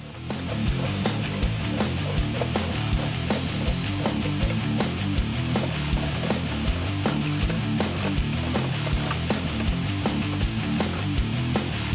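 Rapid ratchet clicking close by as a wrench tightens the rear subframe bolts on a 2015-2023 Ford Mustang, steady bursts of sharp metallic pawl ticks running throughout.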